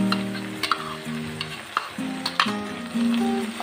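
Capsicum chilli with tomato ketchup stirred in a sizzling pan, with repeated close scraping strokes of a spoon over steady frying noise and a faint tonal hum in the background.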